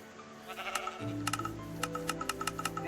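Sheep bleating nearby, a low drawn-out bleat followed by a series of sharp clicks and knocks, fairly faint and without talk.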